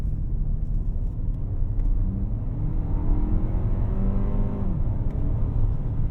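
Engine and road noise inside a 2024 Lexus TX 350 on the move, heard from the cabin: a steady low rumble with engine tones rising and falling as it accelerates, continuous and fairly loud.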